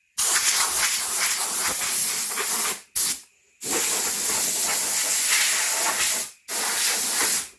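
Compressed air blasts dust off a 1985 Mercedes 300TD hubcap before painting, loud hissing bursts with two brief pauses, close and with no talk.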